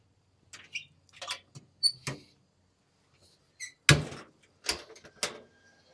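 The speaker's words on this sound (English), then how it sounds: "And we'll shut our hopper doors here." The hopper doors on a Masterbuilt smoker are shut, giving a series of separate metallic clicks and clunks, with one louder bang near the end and quiet pauses between.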